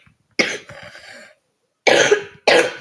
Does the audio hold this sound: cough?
yes